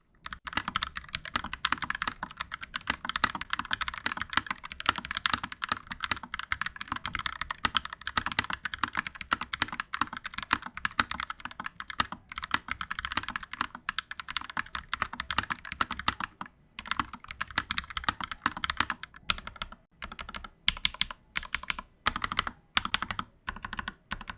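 Continuous rapid typing on a stock KEMOVE K68 mechanical keyboard, with dense clacking keystrokes that thin into short bursts and pauses toward the end.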